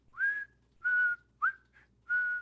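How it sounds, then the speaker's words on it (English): High-pitched whistling comes in four short, separate rising tones, close and clear against near silence, as an eerie effect in a tabletop fantasy role-playing session. "you begin to hear a high-pitched noise, and as you progress down the path, it turns into a sort of whistling"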